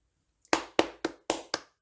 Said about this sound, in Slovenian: Zaploskaj tako kot jaz.